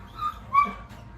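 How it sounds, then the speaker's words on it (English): A dog, upset and left indoors after children go out the front door, whimpers and yelps in two short, high, strained bursts at moderate volume over a low background hum. "the dog's upset because the kids have went out the front door"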